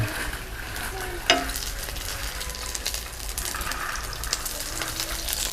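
Cheese and potato filled bread frying in a pan over low heat, a steady soft sizzle with a brief clink partway through, close and fairly quiet.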